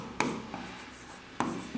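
Chalk or marker strokes on a classroom board as a teacher writes, a few sharp scratchy taps at the start and again near the end with soft friction between, fairly close and without talk.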